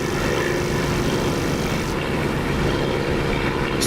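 Propeller engine of a Spitfire in the DCS flight simulator, a loud, steady droning roar that holds evenly throughout with no voices.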